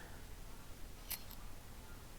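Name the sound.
shearing a sheep, from video game Minecraft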